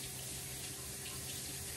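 Kitchen tap water runs steadily into a sink while something is rinsed off during the making of a strawberry lemonade poke cake, a constant close hiss with no talk.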